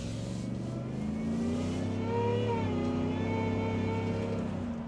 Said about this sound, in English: That supercharger whine sounds very, very good.